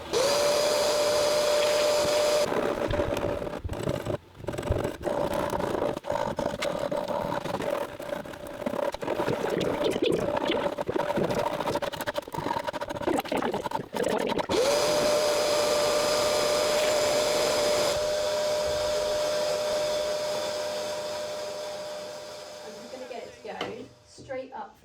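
A Hoover vacuum cleaner runs steadily and loudly in a cottage under floor-joist repair, a constant whooshing motor drone with a steady whine that cuts out briefly midway, then fades near the end, with voices faintly over it.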